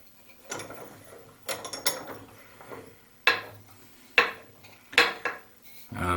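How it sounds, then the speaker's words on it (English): Metal clanks and scrapes of a clock part being clamped in a bench vise, several sharp bursts separated by short pauses, close and fairly loud with no talk. "let's clamp this in a vise"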